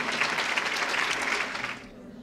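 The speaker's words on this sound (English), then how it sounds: "Give them a big round of applause so that they can hear you in the back." Audience at a fashion show applauding with steady, fairly loud clapping that fades out after about two seconds.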